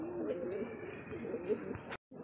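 Giribaz high flyer pigeons coo in a low, throaty murmur that runs steadily for about two seconds, close by, before a brief cut to silence and a quieter return.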